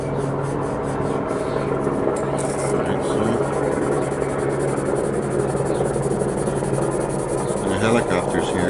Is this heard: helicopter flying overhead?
yes